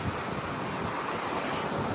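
Water of the Sutlej river rushing past sluice gates, a dense, continuous roar of flowing water mixed with wind buffeting the microphone, steady and close, with no talk.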